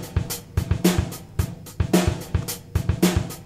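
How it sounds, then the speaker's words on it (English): Bass guitar plucking short, clipped staccato notes locked to a drum groove with a punchy kick, a tight repeating pattern of separated hits at moderate volume, no voices. "The other extreme of this is to play the notes very staccato,"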